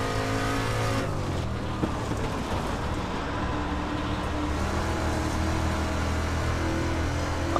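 A DIRTcar Class C street stock race car's engine in the iRacing simulator at Williams drones loudly and steadily, its pitch wavering slightly as the throttle changes, with a rough scrubbing noise running underneath throughout.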